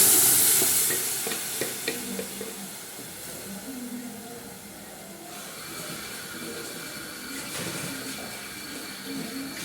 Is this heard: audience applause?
no